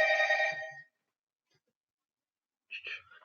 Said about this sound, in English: I forgot to put my phone on vibrate. So if you guys can hear that, that's what it is.